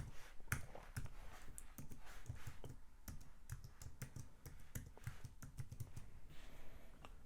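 Someone types a passphrase on a computer keyboard, a steady run of close, crisp key clicks with uneven rhythm and brief pauses, no voices.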